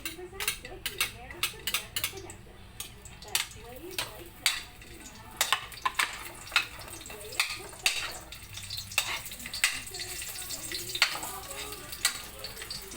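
Garlic sizzles and fries in a pan while a utensil stirs and scrapes it, giving repeated clicks and scrapes over a steady frying hiss throughout.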